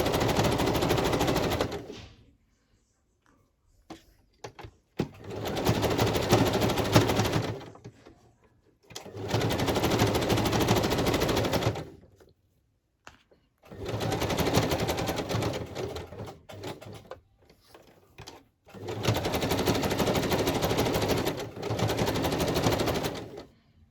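Sewing machine running a zigzag stitch across fabric in four steady bursts of rapid mechanical chatter, each several seconds long and separated by short pauses with faint handling noises.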